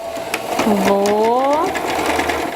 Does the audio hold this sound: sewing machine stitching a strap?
yes